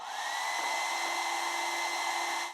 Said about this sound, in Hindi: इसकी टक्कर करवाने के लिए मैंने ये 1200 वोट वाला ब्रांडेड हेयर ड्रायर ले लिया है